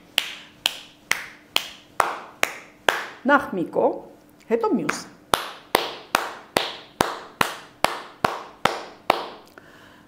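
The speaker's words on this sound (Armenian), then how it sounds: "Մի ձեռքը պահում եք, մյուս ափով սկսում եք հարվածել կամ ծափահարել։" One palm strikes the other hand in a steady series of about twenty sharp, close claps at an even rhythm, with a short spoken pause partway through.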